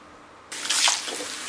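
Tap water starts abruptly and runs steadily, a broad close hiss for rinsing a hair mask out during a perm, with no talk over it.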